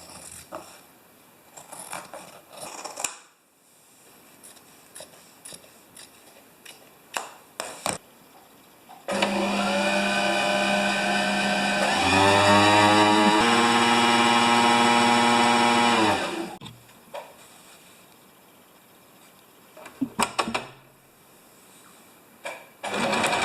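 A sewing machine stitches zigzags around fabric, running in one loud, continuous mechanical whir for several seconds with shifting speed, set between quieter stretches of handling clicks and rustles.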